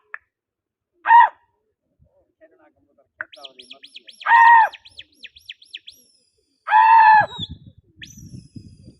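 Pigeons in a rural setting give three loud, close bursts of harmonic calling, with thinner chirps between them and low rumbling noise near the end.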